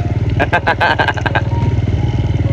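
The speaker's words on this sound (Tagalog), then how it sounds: "saan ka nakakita ng motor na tumatakbo pero walang silinyador." A small motorcycle engine runs with no throttle cable fitted, idling in a steady low rumble with a burst of rattly clatter early on, heard close on a rural road.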